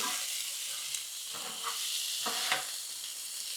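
Meatballs and lil smokies sizzling on a Blackstone griddle, a constant moderate hiss with a few soft scraping strokes as they are stirred around.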